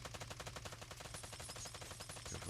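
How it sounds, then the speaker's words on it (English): Dense, rapid gunfire from a competitive first-person shooter match in the UCE Nations Cup France qualifiers, with wall bang shots cracking in quick bursts throughout, loud and continuous with no talk. "All the wall bangs here, all the shots coming off."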